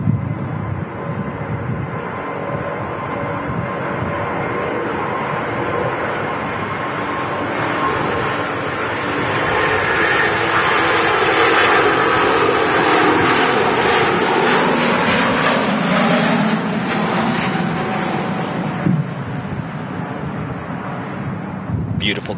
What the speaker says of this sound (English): A350 rolling off to Houston.